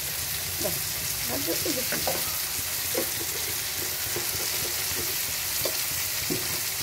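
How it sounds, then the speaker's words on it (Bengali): A tomato mixture fries in a pan, a steady broadband sizzle running throughout while a spatula scrapes and stirs side to side in repeated short strokes, close and continuous with no talking. "হাত এবার খুন্তি এপাশে ওপাশে, খুন্তি এপাশে ওপাশে, এবার নাড়িয়ে চাড়িয়ে"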